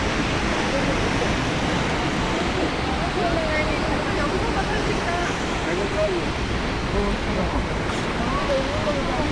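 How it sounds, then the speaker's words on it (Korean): A steady, loud roar of Jeongbang Waterfall on Jeju crashing down into the sea, continuous broadband rush with no breaks, heard up close. "저희가 정방 폭포 보러 왔습니다."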